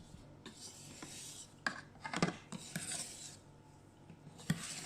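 Cake batter for a roll cake being folded with a spatula against the bowl side, soft close scraping and rubbing strokes with a few sharper knocks, quiet and without talk.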